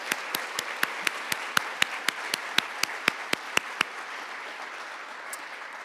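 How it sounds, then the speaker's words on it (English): Audience at an art symposium at Crystal Bridges applauds the volunteers: a run of evenly spaced claps about twice a second over a soft bed of wider applause, stopping abruptly before a quiet tail. "a huge round of applause and thank you to our volunteers"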